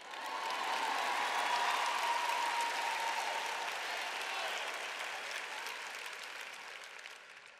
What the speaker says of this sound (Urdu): دیکھیں، آپ اتنی تالیاں نہیں بجا رہے۔